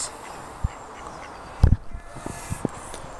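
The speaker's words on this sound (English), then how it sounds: "Ducks." Ducks quack a few times nearby in short, scattered bursts over steady outdoor background noise.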